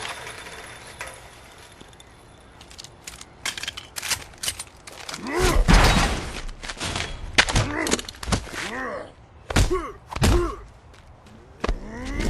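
Bursts of gunfire crack through a Saints Row 2 cutscene, sharp shots and rapid volleys scattered over several seconds, with voices speaking between the shots.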